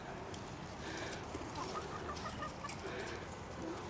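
Chickens cluck softly in a park mini-zoo amid a faint, busy background murmur, a few short clucks scattered through the clip.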